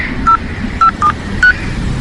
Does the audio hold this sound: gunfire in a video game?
no